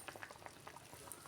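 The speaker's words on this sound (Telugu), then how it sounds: "ఈలోపు ఈ కూర ఉడుకుతూ ఉంటుంది" A pot of goat head and offal curry bubbles and simmers on the stove, giving a quiet, continuous burbling with small pops close by.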